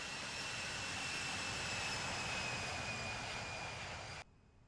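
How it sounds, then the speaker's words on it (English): Passenger jet taking off: a sustained roaring engine wash with a steady high whine, loud and continuous, cutting off abruptly near the end. "At 6:12, the plane is cleared for departure and begins takeoff."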